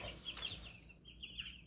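Young meat chickens, baby chicks just getting their feathers, give soft high-pitched peeps and clucks close by against a low background rumble.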